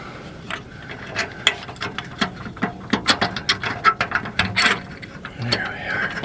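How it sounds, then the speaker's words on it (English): Bolts are being fitted back into an RV slide room: a quick run of ratcheting metal clicks and taps, close and irregular, builds to a dense cluster before easing off. "As soon as we get these bolts back in there."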